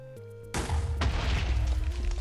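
A janky TNT cannon in Minecraft goes off with a sudden loud boom, then a rumbling, crackling blast that sustains for well over a second, preceded by faint game tones.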